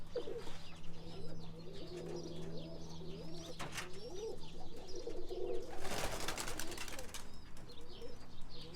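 Young pigeons being trained to fly, with soft cooing and bird calls over a steady low hum, a brief flutter of wings around the middle, continuous background noise throughout.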